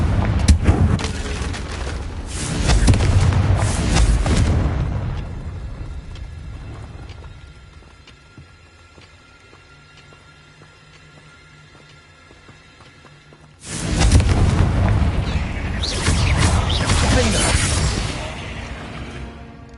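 Booming Confringo blast spells go off in Hogwarts Legacy, in a loud dense burst of explosions for the first few seconds, a quieter stretch of game ambience, then another heavy barrage toward the end.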